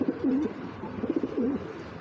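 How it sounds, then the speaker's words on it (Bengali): Pair of young Afsan Giselle pigeons cooing softly nearby, two rolling low coos in succession with a steady background hum. "খুবই সুন্দর এক জোড়া আফসান গিজেল পেয়ার"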